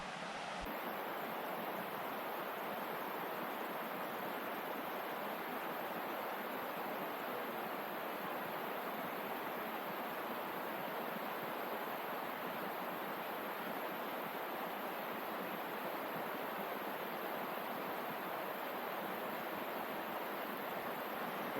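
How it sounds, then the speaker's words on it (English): A waterfall in Loxley Valley, Sheffield, pouring as a steady, even rushing hiss of water that fills the whole stretch with no voices. "I think I'm just going to stop back at this waterfall"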